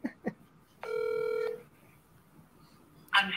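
Telephone dialing tones while calling, two short soft beeps followed by a single steady tone lasting over half a second, then quiet before a voice starts at the end.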